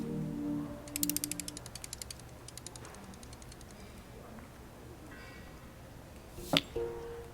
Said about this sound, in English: If I used the screwdriver, I could adjust the angle of the mirror.